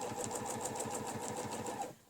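A sewing machine stitching a tulip cable line runs steadily with an even, rapid mechanical rhythm of needle strokes for about two seconds, then stops abruptly; close and moderately quiet, with no talk.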